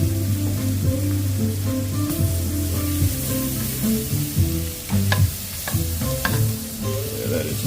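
Butter sizzling steadily in a hot pan while wild hog chile verde is being made, a continuous close frying hiss with occasional clicks and scrapes of stirring, no talking.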